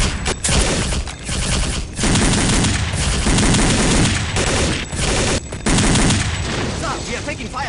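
Dense, loud video game gunfire with sustained automatic bursts and rapid shots, nearly continuous across the stretch with brief gaps, with no clear talk over it.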